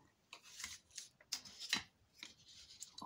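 Scissors snipping away excess paper while making a scrapbook album, a run of soft close-up cuts and light paper rustling, quiet and uneven in rhythm.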